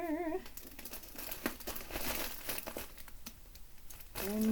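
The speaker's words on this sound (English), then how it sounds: "I need to put some more tape. I need to put tape" Packing tape is pulled off the roll and pressed onto a shipping package in short crinkling, tearing bursts, close and fairly quiet, with a brief voice at each end.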